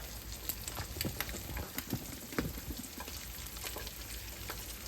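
A steady, faint sizzle of eggs frying in a pan, with soft crackles and pops scattered throughout.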